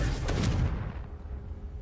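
Confringo, an explosive fire spell in the Hogwarts Legacy video game, lands as one loud, close blast that booms for about half a second and then trails into a fading rumble.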